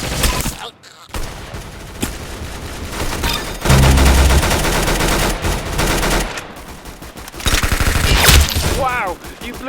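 Rapid bursts of gunfire from the video game Arsenal crack in dense, loud volleys with brief gaps between sustained automatic strings, while game voices occasionally speak.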